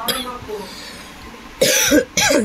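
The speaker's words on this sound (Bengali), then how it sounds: "আর আমার কাশিটা দেখছো, কোনো সময় ওটা সুস্থ থাকার মতো নেই" Two loud, harsh coughs from an adult, close by, the second following shortly after the first, with a quieter murmur of voices in the room before them.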